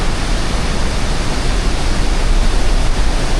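Water rushes down through a narrow rocky passage in a steady, loud, unbroken roar with no voices.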